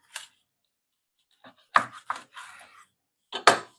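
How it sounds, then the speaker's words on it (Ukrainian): A knife cuts into smoked bream with several separate crunchy strokes and scraping slices, close up against an otherwise quiet background. "давай зараз розріжемо і подивимося"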